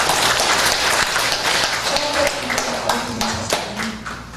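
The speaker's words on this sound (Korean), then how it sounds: "하나님 존재 위해서 큰 박수 한번 부탁드리겠습니다" An audience at a church worship service in Jinju breaks into big, sustained applause: dense, fairly loud clapping that keeps a steady level throughout, with faint tonal sounds under it.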